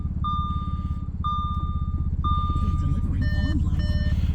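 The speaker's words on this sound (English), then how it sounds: "I can get it started up for you. It's got a nice little rumble to it." A 2013 Audi S5 sits running at idle with a steady, low, pulsing engine rumble. Over it, several evenly spaced electronic warning chimes beep, then a faster run of tones sounds near the end.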